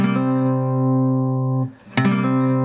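An acoustic guitar strums a ringing three-note chord that sustains, cuts off briefly, then is struck again.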